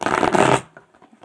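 A deck of tarot cards is shuffled in one quick, close riffling burst lasting about half a second, followed by faint handling sounds and no speech.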